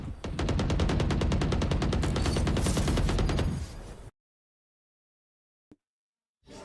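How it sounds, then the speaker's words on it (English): Rapid automatic fire from a Phantom rifle in the Valorant video game, a loud, dense burst of shots lasting about three and a half seconds that then cuts to silence with a brief click, with no talking. "Look how powerful this Phantom weapon is, no?"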